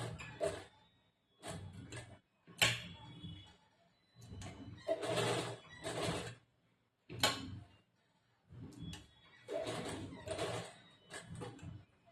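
Domestic sewing machine stitching the back neck of a blouse, running in short bursts of a second or so separated by pauses, close and moderately loud with no speech.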